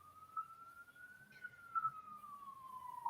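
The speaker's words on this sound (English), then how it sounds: "I apologize again for the sirens" An emergency vehicle siren wails in the city outside a home, a single distant steady tone rising slightly then sliding down, faint beneath room noise.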